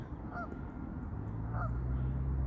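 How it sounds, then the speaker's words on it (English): Canada geese honk twice in the distance, a pair of short calls about a second apart over low background rumble. "And the Canada geese is over there and over there."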